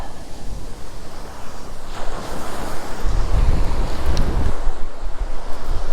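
Strong wind blows steadily across a microphone on a seaside fishing spot, a loud continuous rushing roar with gusts that swell midway, mixed with the wash of surf and no talking.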